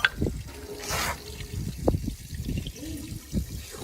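Water from a broken underground pipe trickles and splashes in irregular gurgling bursts, close up, with muffled handling noises and faint background voices.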